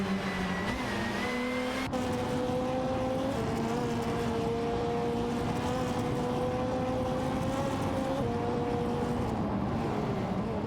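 Race cars in an AI racing simulator game, engines droning and shifting pitch as several cars run together, a steady loud hum with gear-change steps.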